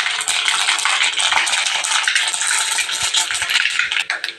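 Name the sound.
mustard seeds spluttering in hot coconut oil for tempering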